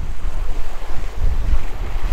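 Strong wind roars steadily into the microphone over rough ocean surf on an unfishable day, a loud continuous rush with swells breaking underneath and no voices.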